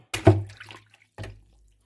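A stone dropped into a container of water to test whether it floats gives a short splash and slosh, followed about a second later by a second, smaller splash, close and clear with no talking.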